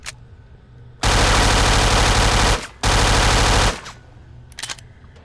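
Automatic gunfire in the PSVR game Gun Club VR: two loud, sustained rapid bursts, the first about a second and a half long, then a brief gap and a second burst, with scattered clicks afterward.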